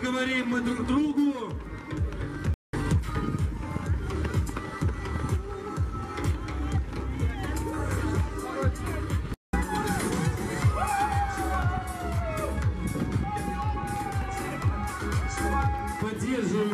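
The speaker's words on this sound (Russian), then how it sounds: "Поддерживаем участников аплодисментами." Crowd at the finish of a monastery charity run in Zhyrovichi, a continuous loud murmur of spectators with scattered cheers and clapping while a voice talks over a loudspeaker throughout.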